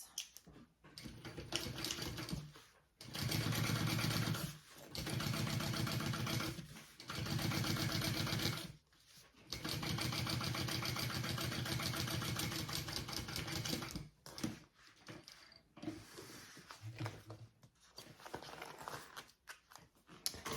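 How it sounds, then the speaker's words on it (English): A sewing machine top stitches a bag lining through the seam allowance, running in steady bursts of rapid mechanical chatter separated by short pauses, close and clear. "we are going to top stitch along the lining and through that seam allowance"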